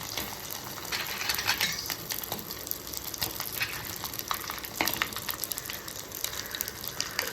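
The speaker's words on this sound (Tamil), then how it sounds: "இப்போ நம்ம அந்த உப்பு கண்டம் கபாபை இதில் போட்டு எடுத்துக்கலாம்" Pieces of salted dried meat kebab fry in hot oil with a continuous dense sizzle and bursts of crackling spatter, close and fairly loud throughout.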